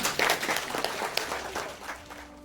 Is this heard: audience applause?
yes